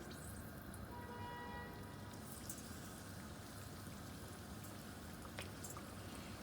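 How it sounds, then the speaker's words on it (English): Steady, dense sizzling and bubbling of karanji frying in hot oil, continuous and close with no voices. "Now I'm going to start frying the karanji. Oil has become hot."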